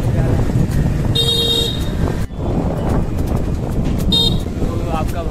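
Riding in the back of a car through traffic in Madhubani, engine and road noise under two sharp horn honks from nearby vehicles, with people talking throughout.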